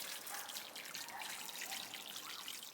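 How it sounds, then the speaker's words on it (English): Water trickles and drips through soil and out a pipe in a self-watering hanging planter, a faint, steady, close-up dribble. "I'm starting to see water come through now"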